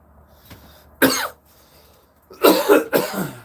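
Two bursts of harsh coughing, the first short and the second longer and repeated, close to the mic with quiet pauses between, from a man with a chronic cough.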